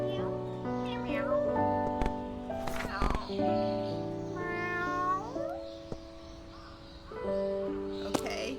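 A person imitates a cat with a string of drawn-out, sliding meows in a childlike voice, with short gaps and a few sharp clicks between them.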